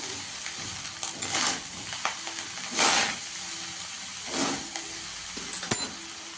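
Chicken fried rice being stirred with vinegar in a pan, a steady sizzle and hiss with swells of scraping and tossing, close and fairly loud, with no talk.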